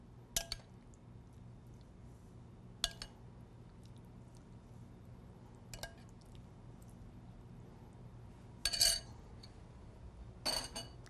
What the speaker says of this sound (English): We spoon this over the fish